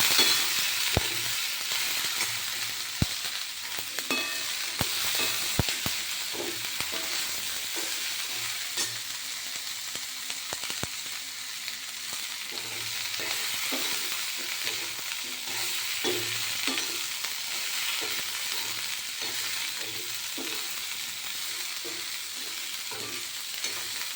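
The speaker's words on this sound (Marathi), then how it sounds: "असं टाकलं याच्यामध्ये भाजी सगळ्या. तेलात परतून घ्यायचं सगळं." Mixed vegetables stir-fried in hot oil in a pan for a Bhogi dish, giving a steady close sizzle with frequent clinks and scrapes of the spoon, and no talking.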